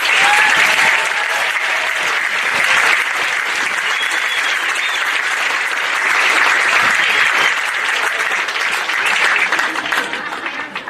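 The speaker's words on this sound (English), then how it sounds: "Let us start please by a big round of applause for these veterans from the South West Pacific Islands." Sustained applause from an audience at a women's military and police rugby sevens tournament at Portsea Oval, honouring veterans from the South West Pacific Islands; loud, dense clapping holds steady for about eleven seconds before easing slightly at the end.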